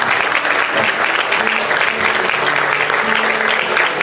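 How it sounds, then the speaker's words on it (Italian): An audience at a charity show claps steadily and enthusiastically, a sustained wash of applause with a voice faintly audible underneath. "Vorrei un applauso, Sergio, indietro."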